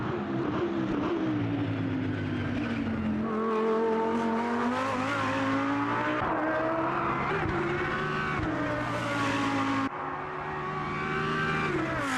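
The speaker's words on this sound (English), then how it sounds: "the Lamborghini sounds really good" A Lamborghini race car engine in the Automobilista 2 racing game roars continuously, its pitch rising and dropping through gear shifts and corners, with faint tyre noise underneath.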